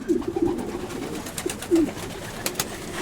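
Pigeons coo softly in short repeated phrases against a steady background hum, with a few faint ticks and rustles.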